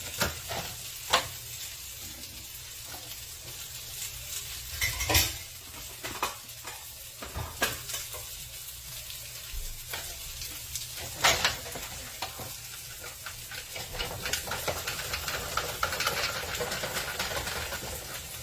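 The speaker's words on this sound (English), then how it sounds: "I'm cutting it down just a little, maybe pressing it down a little bit harder." A knife cuts through chopped salad on a cutting board, producing scattered crisp crunches and taps over a low hissy background, close and fairly quiet, with irregular pauses between strokes.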